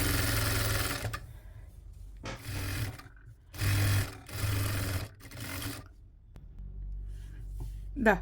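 A sewing machine runs in several bursts of straight stitching along a shawl, each run lasting about a second with short pauses between, loud and close.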